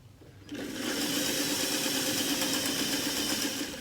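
Home sewing machine stitching over a seam of vinyl cording, starting abruptly after a quiet moment and then running as a steady, close, continuous whirring drone with a rapid mechanical patter.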